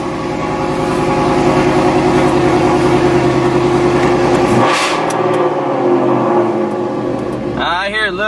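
2016 Mustang GT fitted with a Whipple supercharger, engine loping loudly at idle, then a sharp rev blip midway that settles back, and a short rising rev near the end.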